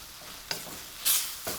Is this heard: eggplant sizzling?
yes